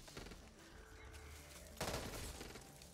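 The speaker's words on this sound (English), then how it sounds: "This is the M16 I've only messed around with the recoil on it" Gunfire from an M16 rifle in the video game Back 4 Blood, a sustained burst of rapid shots that swells louder near the end, with a steady clatter running through the whole stretch.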